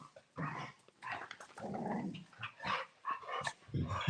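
Several dogs growl and bark in a busy, close-up burst of agitated vocalizing, with rough snarls and short yaps overlapping throughout, no speech over them.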